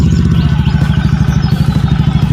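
A Honda BeAT scooter fitted with a ZRC copy CMS exhaust idles close by, a deep, bassy, rapid pulsing putter that stays steady and loud throughout.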